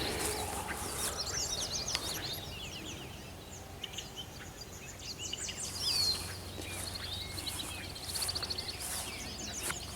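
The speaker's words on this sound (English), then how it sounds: "Wood ducks." Wood ducks give repeated thin, high squealing calls from a marsh along the Beaver Trail at Downybrook Nature Reserve. The calls overlap with other scattered bird calls, some near and some distant, with no talking.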